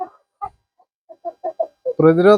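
Fayomi chickens, including a young male, give short clucking calls in a loose series, ending in a louder, drawn-out call close by.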